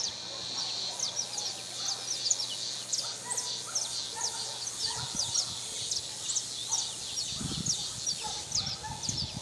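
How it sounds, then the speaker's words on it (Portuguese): A steady chorus of many birds calling outdoors among trees on a countryside property in São Pedro, São Paulo state, rapid repeated chirps layered together at moderate volume, with a few low rustling thumps underneath. "Muito pássaro aqui."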